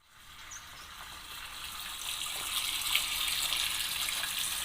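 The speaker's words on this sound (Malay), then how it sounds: "sekarang aku dah mula isikan air di dalam kayak" Water from a hose or tap runs steadily into a kayak being checked for leaks, a hissing, splashing gush that swells slightly louder and stays continuous, close by with no talking.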